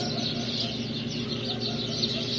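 Free-range hens cluck and chatter steadily in a poultry yard where chicks are hatched, with a dense, continuous flock sound and no clear breaks.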